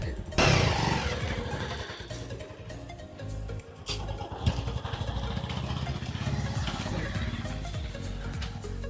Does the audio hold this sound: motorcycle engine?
yes